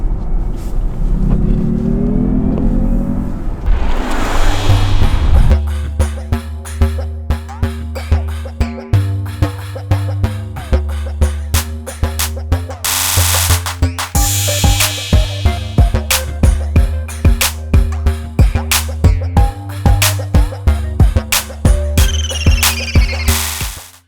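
An electric Jaguar I-Pace, a two-tonne car, accelerates hard with a loud, continuous drive hum and rumble that rises and pulses through repeated surges.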